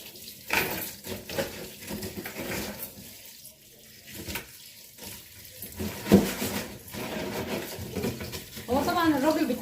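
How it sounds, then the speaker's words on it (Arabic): Crabs get a vigorous wash under a running kitchen tap, with continuous splashing water, clattering against a plate and someone talking over it. "نغسلها غسله جامده كده بالميه كذا مره كده"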